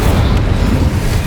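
A fire spell cast in Hogwarts Legacy, heard as a loud, dense roaring whoosh that fills the whole moment without a break.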